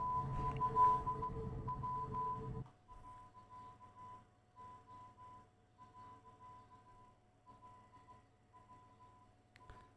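Morse code beeps repeat as short and long tones in a steady on-off pattern, starting loud under a dense burst of background noise, then continuing more faintly over a low hum for the rest of the stretch.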